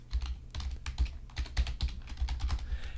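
Fingers typing on a computer keyboard, a quick run of close, soft key clicks with an uneven rhythm and brief pauses, quiet and alone.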